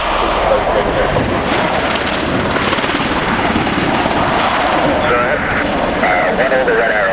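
A Bell Boeing CV-22B Osprey tiltrotor flies at the RIAT air show at Fairford, its loud, dense rotor and engine roar steady and close throughout, with a faint announcer's voice underneath.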